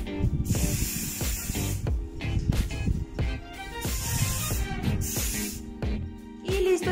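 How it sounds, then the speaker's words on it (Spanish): Glitter hairspray is sprayed onto a girl's hair in several loud, close hissing bursts separated by short pauses. "vamos a agregar un poquito de spray con brillos"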